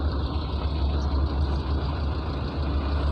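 A container truck's diesel engine idles in slow, jammed traffic: a steady, heavy low rumble holding constant for the whole stretch, with no talk.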